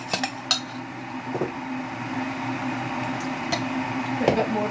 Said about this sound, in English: You stir it quite vigorously. Try and get it smooth.